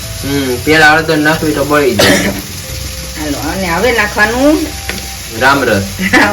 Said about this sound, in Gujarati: થોડા સારી રીતના મરચા તળાઈ ગયા છે